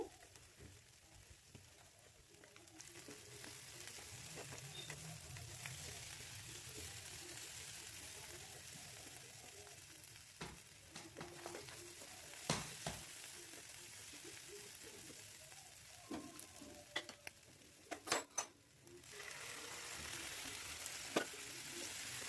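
Katla fish curry masala sautéing in a pan with whisked sour curd gives a faint, continuous sizzle, broken by a few sharp clicks and scrapes of a spoon stirring near the end.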